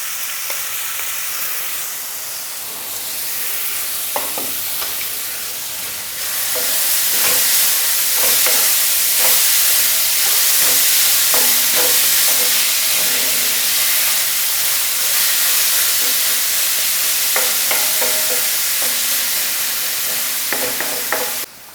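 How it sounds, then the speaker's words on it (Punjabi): Chopped onion, ginger and garlic fry loudly in hot oil with asafoetida in a pan, with a continuous bright sizzle and repeated scraping stirs of a spoon throughout. "ਜਿਹੜੇ ਆਪਾਂ ਪਿਆਜ਼ ਅਦਰਕ ਲਸਣ ਚੋਪ ਕਰਕੇ ਰੱਖੇ ਸਾਰੇ ਆਪਾਂ ਇਸ ਦੇ ਵਿੱਚ ਪਾ ਦਿੰਦੇ ਹਾਂ ਇਹਨਾਂ ਨੂੰ ਚੰਗੀ ਤਰ੍ਹਾਂ ਆਪਾਂ ਭੁੰਨਣਾ ਹੈ"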